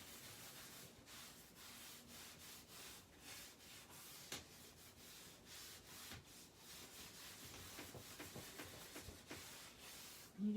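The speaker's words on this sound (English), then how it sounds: "You just keep rubbing it in." A cloth rubs stain wax into a surface with steady, continuous scrubbing strokes, a dry rustling friction that is close and moderately loud, with no voices.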